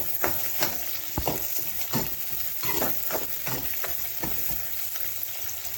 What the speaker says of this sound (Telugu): తర్వాత మనం కట్ చేసి పెట్టుకున్న ఉల్లిగడ్డలను అయితే వేసుకోండి. కాసేపు కలుపుకొని కాసేపు అయితే వేగనివ్వండి